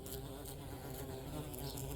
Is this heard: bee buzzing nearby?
yes